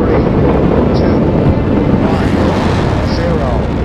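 A rocket engine igniting at launch in Kerbal Space Program roars as a loud, steady broadband rumble throughout, with a voice speaking faintly underneath.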